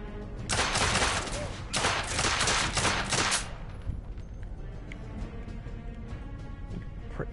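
Rapid automatic gunfire in the steampunk shooter The Order 1886, loud dense bursts for about three seconds, then scattered quieter shots and rumble.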